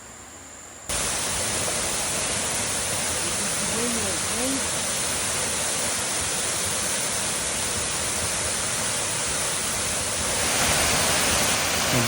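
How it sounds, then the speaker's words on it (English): Ngardmore Falls, the tallest waterfall in Palau, roars as a dense, steady broadband rush that starts abruptly after a quiet moment and fills the scene, loud and close, with faint voices murmuring beneath the torrent. "Ngardmore Falls. It's the tallest waterfall in Palau."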